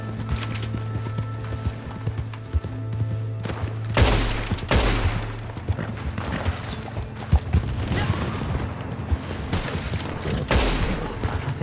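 Gunfire in the online Western game Red Dead Redemption 2 Online: scattered shots and bursts over constant game ambience and music, with a few sharp louder cracks.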